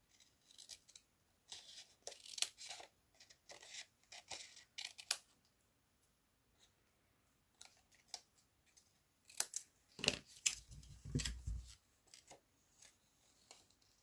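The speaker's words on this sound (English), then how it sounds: "I need to trim some of this off so I can get the punch closer." Scissors snip and trim card paper for a handmade Christmas card, a series of close, crisp cuts in uneven bursts with short pauses, then a duller thud and rustle of the card being handled near the end.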